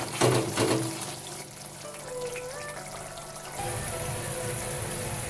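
Water poured into a pan of cooking masala for a dahi katla fish curry gravy, a steady rushing fill that swells near the end, with no talking.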